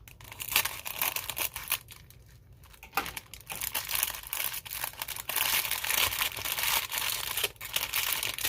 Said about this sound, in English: Of course, need the scissors again.